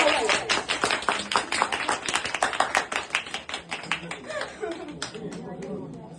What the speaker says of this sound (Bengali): সৌমিদিয়া রয়নদার জন্য প্রথমেই জোরে হাত তালি হোক